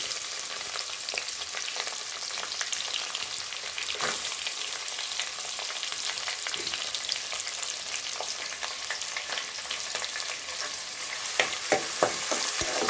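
Chana dal fries in oil in a pan, an even close sizzle throughout with scattered light stirring taps, a few sharper clicks near the end.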